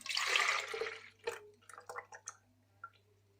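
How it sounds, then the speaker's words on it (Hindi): Buttermilk pours into a juicer in a full, close liquid gush for about a second, then trails off into scattered drips and small splashes. "ये बटर मिल्क डाल रही हूँ जूसर में"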